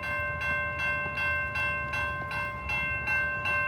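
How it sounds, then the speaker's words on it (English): A malfunctioning railroad crossing with a clear track: a fast, steady clanging warning bell rings continuously and loudly nearby, each strike ringing with bright metallic tones, with no talking. "Here's a railroad crossing malfunction."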